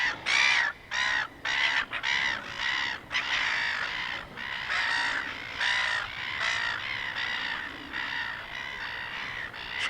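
Crows caw loudly and repeatedly at close range on a rocky shore in the morning, harsh overlapping calls in bursts that continue with hardly a pause.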